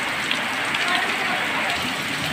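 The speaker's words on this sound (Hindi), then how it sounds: "बारिश बहुत तेज़ हो रही है" Heavy rain pours steadily in a dense, continuous hiss, loud and close throughout.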